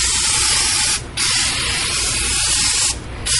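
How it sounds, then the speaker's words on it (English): Engine cleaner sprayed from an aerosol can over a car engine: loud, continuous hissing bursts with two short breaks between them, close up. "Spray it everywhere."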